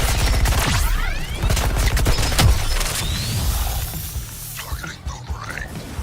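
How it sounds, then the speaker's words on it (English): Rapid artillery and gunfire bursts from the video game Suicide Squad: Kill the Justice League, loud repeated blasts with whooshing projectiles and debris, tapering off near the end as a voice speaks briefly. "I can't hear over the artillery"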